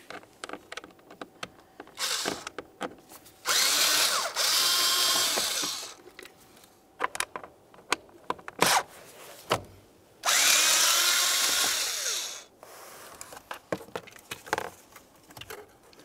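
A power drill spins screws out of the blower motor on a 2005-2010 Dodge Dakota HVAC assembly, two loud whirring bursts separated by clicks and handling noises, with no talking.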